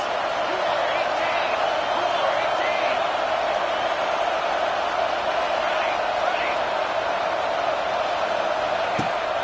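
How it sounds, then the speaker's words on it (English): Steady, dense stadium crowd roar from an NCAA 26 college football video game, constant throughout with play-by-play commentary talking over it. "This crowd trying to make life miserable for this offense."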